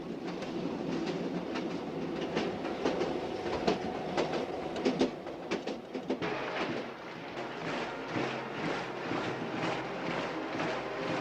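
A train rolls along the North–South Vietnam railway with steady clickety-clack of wheels over rail joints, rumbling close and continuous for the whole stretch, with a faint bird call now and then.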